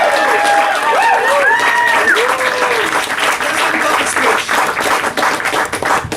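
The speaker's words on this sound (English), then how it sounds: "Give yourselves a big round of applause for coming." Audience applause at a comedy show at the Edinburgh Festival, steady clapping from a crowd lasting several seconds and thinning toward the end, with some voices heard over it.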